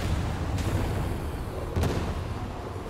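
Frag grenade explosions in Warhammer 40,000: Darktide, with two sharp blasts about a second apart over a dense, constant combat rumble.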